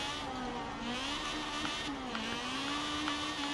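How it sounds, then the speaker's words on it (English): A K20-swapped single-turbo lightweight Honda CRX in Forza Horizon 4, its engine holding a steady, droning high rev as the wheels spin up through the gears in town, loud and continuous, with no voices. "Lots of wheel spin all the way up into fourth now."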